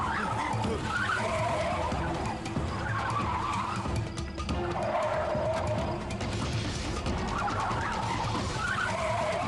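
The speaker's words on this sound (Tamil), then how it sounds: "இந்த வண்டிக்கு என்னாச்சு? தெரியல. இது என் கண்ட்ரோல்லே இல்ல." A car skids out of control in a dramatized scene, with a continuous loud roar of tires and engine plus wavering squeals that rise and fall for the whole stretch, under a dense wash of sound.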